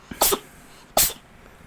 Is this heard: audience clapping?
no